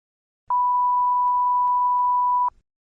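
A single steady electronic beep marks the start of a TOEFL speaking test response period, a pure tone lasting about two seconds, clear and loud against silence.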